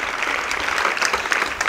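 Applause for the women attending a public lecture fills the moment, a continuous crowd patter of fairly loud clapping with no talking over it.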